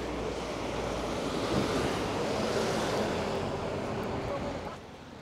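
Steady roar of sea surf washing in, a continuous broadband rush with some wind noise, easing slightly near the end.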